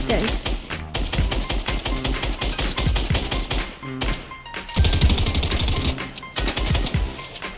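Rapid gunfire bursts from the video game Fortnite, shots hitting a built wall, loud and dense with short pauses between volleys, game sounds throughout.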